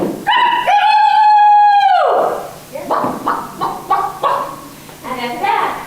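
A storyteller's voice imitates a rooster, giving one long, loud crowing call followed by a run of rhythmic clucking bursts, close and alone without ordinary speech.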